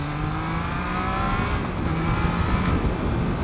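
A 2021 Triumph Trident motorcycle accelerates along an English country road, its engine note climbing steadily in pitch, loud and close throughout.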